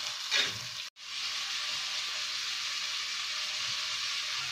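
Onions sautéing with kokum and salt in a pan, giving a steady bright sizzle that runs almost unbroken, with a short handling bump and a brief gap near the start.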